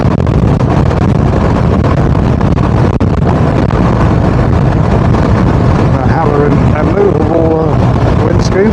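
A BMW R1250RT motorcycle rides at speed in dynamic mode, its engine drone buried under a loud, constant rush of wind noise buffeting the microphone throughout.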